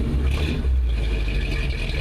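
A 1955 Chevy pickup truck engine running at a steady idle, a deep rumbling drone close by and fairly loud for the whole moment.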